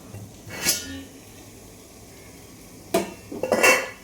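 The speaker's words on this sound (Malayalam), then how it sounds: "ഇനി നമുക്ക് ഇഡലി പാത്രം അടച്ചു വയ്ക്കാം" The lid of a metal idli steamer pot is handled and closed, giving a clank, a pause, then a sharper knock followed by a rattling clatter, all close and without talk.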